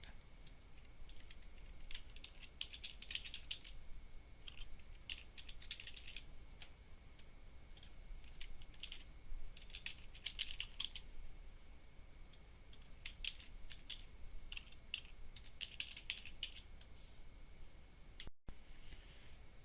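Soft, faint clicking of keys on a computer keyboard in scattered bursts over steady low background hiss, with no talking.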